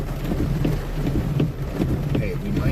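Heavy rain pours steadily during a tornado storm chase, with a low rumble that could be distant thunder beneath the constant downpour, and voices murmur faintly in the background.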